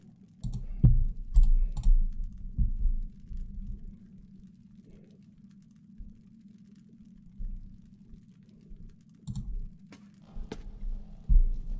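Bursts of typing on a computer keyboard during the game Darkness Within: In Pursuit of Loath Nolder, clusters of close clicks separated by quiet pauses over a low steady room hum, with no talk.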